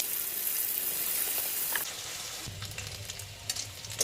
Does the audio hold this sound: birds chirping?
no